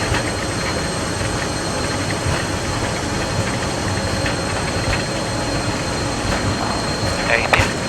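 Avro RJ100 jet engines spooling at takeoff thrust, a loud broadband roar heard from the cockpit, steady and continuous with a faint voice under it.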